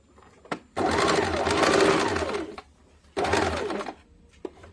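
A sewing machine stitches a boat-neck princess-cut blouse in two bursts, a fast, loud mechanical whirr of the needle running for about two seconds, then a pause, then a shorter run, with faint clicks between.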